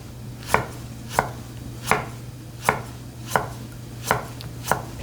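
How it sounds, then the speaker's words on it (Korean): A knife slices ingredients into even pieces on a cutting board, eight sharp, evenly spaced chops about two-thirds of a second apart over a low steady hum, with no voice. "편을 고르게 내가 원하는 두께로 썰어주고"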